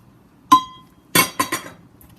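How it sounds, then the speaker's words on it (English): A drinking glass scrapes and knocks against a metal strainer while tomato sauce for canning is pushed through it: one sharp clink, a pause, then three quick clinks close together, close and crisp in a quiet kitchen. "I get a glass and I just rub it."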